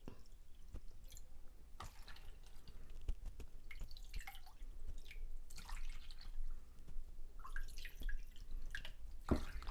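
Water goes into a bowl of wheat flour for halwa as quiet, irregular drips and splashes repeat over a low, steady background, and nobody speaks.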